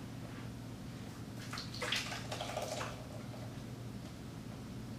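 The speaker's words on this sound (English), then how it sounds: "now we're going to pour it through this cheesecloth" Melted butter being clarified into ghee pours through cheesecloth with a soft, steady liquid trickle over a low background hum, swelling briefly in the middle.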